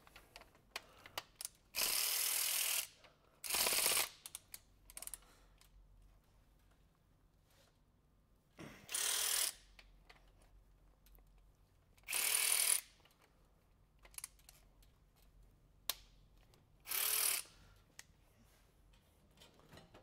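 A ratchet socket wrench working on the cylinder head bolts of a 1996 Toyota 4Runner, in five or six separate bursts of rapid loud clicking, each lasting about a second, with quiet pauses between.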